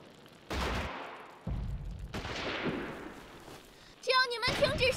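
Gunfire bursts from a war film, with loud broadband cracks and rattles in several separate volleys and sustained firing across the scene, mixed with shouting voices near the end.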